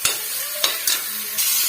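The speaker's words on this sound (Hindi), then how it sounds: "तो ये प्याज के साथ ही भून जाएगा।" Chopped capsicum frying with onion in a pan, a soft steady sizzle broken by a few sharp spoon scrapes and clacks against the pan, close and without talking.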